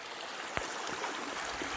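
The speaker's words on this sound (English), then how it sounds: "this creek 2 months ago wasn't flowing" Steady, broadband rush of a creek flowing through New Zealand bush at dusk after rain, close and continuous with slight gurgles and splashes, no voices.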